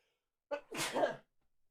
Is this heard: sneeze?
yes